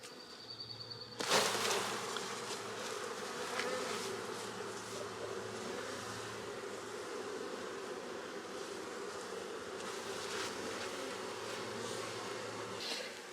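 Honey bees buzz steadily around an open hive, a close, dense drone that keeps on throughout, with a sharp knock near the start and faint rustling under it.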